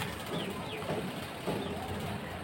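A pair of young adult Jabra pigeons coos softly in two or three low, rolling calls against a constant background hum.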